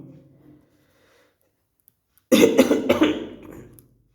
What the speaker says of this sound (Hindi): थोड़ा खांसी हो रही है आज